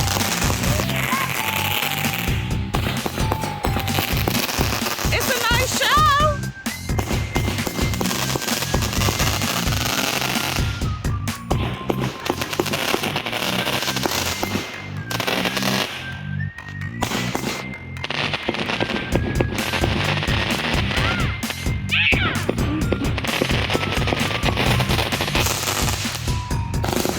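Backyard consumer fireworks cake of 49 shots at a Juneteenth celebration, a dense barrage of crackling bangs and whistles that keeps going without a break for nearly half a minute, loud and close.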